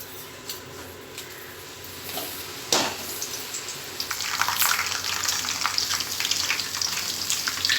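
Sev batter pressed into hot oil starts a sharp sizzle near the three-second mark, after a quieter stretch, then settles into a steady, close, bubbling fry that continues to the end without talk.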